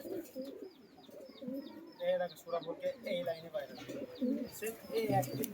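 Andra pigeons kept for sale coo in soft, repeated throaty calls close by, with thin chirps overhead and people talking in between.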